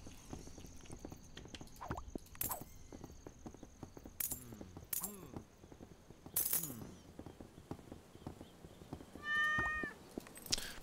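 Cats meow repeatedly in a shop management video game, short meows scattered over clicking sounds and game effects, with one longer, louder meow near the end.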